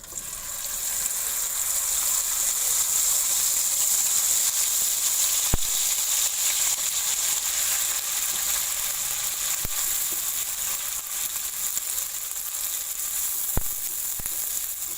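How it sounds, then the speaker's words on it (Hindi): Steady sizzling of minced mutton frying in a hot pan with cumin and black pepper, a continuous crackle with a few sharp clicks, close and fairly loud, no talking. "अब इसमें मैं डाल दूँगी कीमा।"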